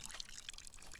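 Water poured onto a potted plant in the puzzle game Botany Manor, a soft, steady trickle lasting about a second, close and fairly quiet.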